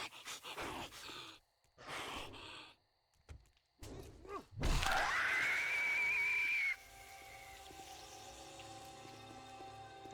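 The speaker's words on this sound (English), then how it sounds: "Impressive, she can scream." A zombie's long, rising shriek in 7 Days to Die erupts after scattered thumps and rustling, holding a piercing, wavering wail for a couple of seconds before cutting off into a faint lingering hum.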